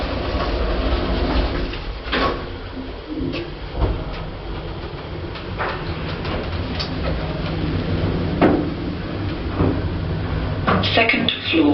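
An Otis Gen 2-style lift at Mile End Hospital shuts its doors and the car travels, producing a continuous mechanical rumble with scattered clunks and clicks throughout, close and fairly loud.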